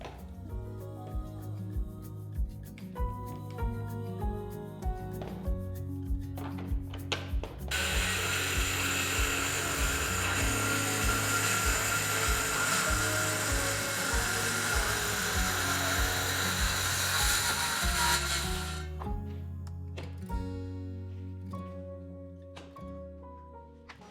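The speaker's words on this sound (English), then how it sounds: "I can just clamp that to use as a guide to run the saw down" A power saw runs steadily for about eleven seconds, ripping along a clamped straightedge guide through a thrifted mirror frame, loud and close, with tool handling and clatter before and after the cut.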